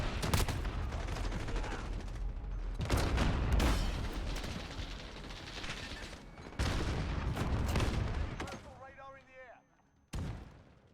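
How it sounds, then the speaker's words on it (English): Rapid gunfire from the Call of Duty: Modern Warfare multiplayer game crackles in dense bursts and single sharp shots, loud and near, with a short pause before a final volley. "I fire my 2 shots."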